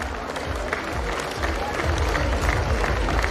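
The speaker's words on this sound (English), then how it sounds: "A big round of applause for our chief guest, Mrs. Swarupa Rani." A crowd at a kindergarten graduation ceremony applauds the arriving chief guest, dense clapping mixed with crowd murmur and some voices, held at a steady level throughout.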